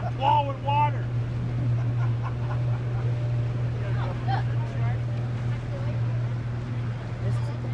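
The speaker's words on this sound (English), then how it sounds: "Now we're running. Oh, look at that. Look at the difference. Now we are plowing water." A pirate ship boat plowing through water, its engine a steady low drone with the rush of water throughout, while people talk and call out over it.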